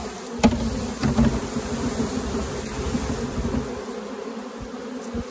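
A honeybee swarm hums steadily around an empty hive box baited with lemongrass and propolis, a dense close buzz with a few sharp individual bees flying past the microphone near the start.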